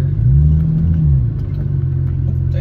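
A Porsche 911 996 with newly upgraded brake pads and rotors reversing, its engine a steady, loud low rumble that holds close and even throughout, with no talk.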